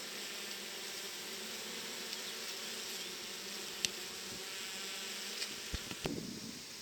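Honeybees from a swarm hum in a soft, steady, high drone while a beekeeper smokes them down onto a frame, with a few faint clicks and knocks near the end.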